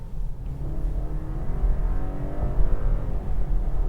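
A BMW 420i Gran Coupe in sport mode revs hard toward 6500 rpm, a loud, close, continuous engine drone that rises and swells in pitch, heard alone without talk.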